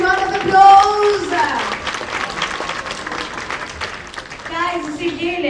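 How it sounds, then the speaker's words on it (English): An audience at an air freight transport panel breaks into a burst of clapping. The applause is close and fairly loud, framed by voices talking before and after it. "Let's give them a huge round of applause."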